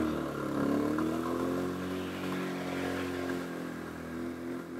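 Scooter-style bike at a resort in Nelamangala, its engine idling with a steady low drone and a few mild revs rising and falling, close and continuous without talk.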